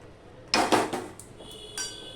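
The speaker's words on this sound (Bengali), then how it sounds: "এবার আমি এই আম কড়াই বসিয়ে দিলাম" A metal wok comes down onto a kitchen stove with a sharp clank, followed by a few lighter metallic knocks and clinks as it settles. The sounds are close and clear, with no talk.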